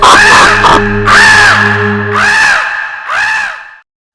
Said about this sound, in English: The crow cawed and flew away laughing.